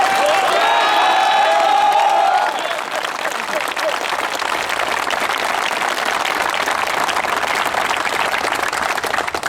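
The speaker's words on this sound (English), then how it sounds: "give me a round of applause for my esteemed guest, Major General Ayala" An audience at a military captain's promotion ceremony applauds a guest, the broad clapping continuing steadily throughout, with a voice heard over the clapping at the start.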